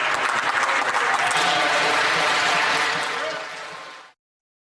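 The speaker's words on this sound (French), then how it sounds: "Les démocrates, bloquistes et verts ont tous applaudi la motion" Applause in the House of Commons after a motion: a dense burst of clapping from many members fills the chamber at a steady loud level, then cuts off abruptly.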